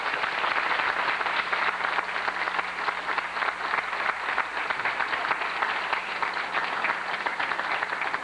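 Dense, steady applause from a theatre audience after a play, a continuous wash of many hands clapping at even loudness for the whole stretch, with no speech over it.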